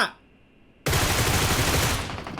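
After a brief quiet start, a loud burst of rapid Groza rifle gunfire erupts and continues steadily, the dense shots of PUBG Mobile combat.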